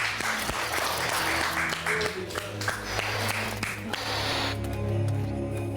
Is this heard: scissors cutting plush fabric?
no